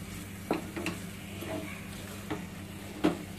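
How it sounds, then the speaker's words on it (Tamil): Spoon stirring jaggery into ghee-cooked mashed banana for halwa in a pan, with a few soft scraping knocks over a low sizzle. "கால் கப்பு வெல்லம் சேர்த்து கலருவோம்"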